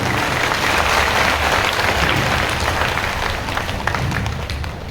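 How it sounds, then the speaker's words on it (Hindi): Thunderous applause from an audience at a spiritual gathering in Garhwa, Jharkhand, a dense, continuous roar of many hands clapping together, loud and sustained throughout, tapering slightly toward the end. "सभी एक दूसरे के लिए तालियों की गड़गड़ाहट है।"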